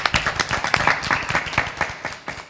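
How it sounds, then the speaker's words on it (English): A small audience at a nightly religious teaching series claps for the students, distinct individual hand claps in a brisk, irregular patter that fades slightly toward the end. "And to all of our students, a wonderful round of applause"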